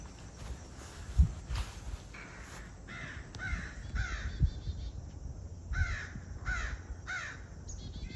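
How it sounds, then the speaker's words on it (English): Several crows caw repeatedly outdoors, loud harsh calls in uneven bursts of two or three, some near and some farther off, over faint footsteps and light rustling. "all the crows crowing around me"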